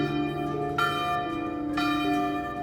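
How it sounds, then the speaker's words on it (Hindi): A village temple bell rings with no one striking it, producing two clear struck tones about a second apart over a sustained, shimmering ring. "उसी समय गांव के मंदिर की घंटी अपने आप बज उठी।"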